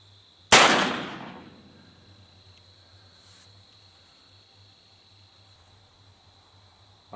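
A single loud gunshot from a Colt SAA New Frontier revolver in .357 fires close by, its sharp crack decaying over about a second into quiet outdoor background with a steady insect-like hum.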